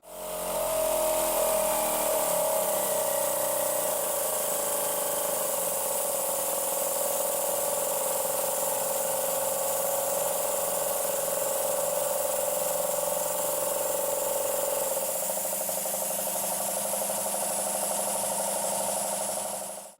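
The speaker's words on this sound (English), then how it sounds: "I can now test the compressor." A repaired air compressor, newly rewired with a potentiometer fitted to its enclosure, runs with a steady, loud motor drone throughout, and its tone shifts slightly near the end.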